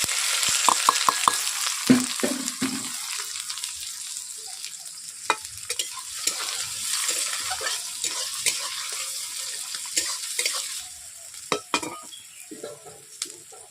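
Green chilies and onions frying in a pan, a loud continuous sizzle with crackling spatter and intermittent stirring clicks, easing slightly toward the end, no talking.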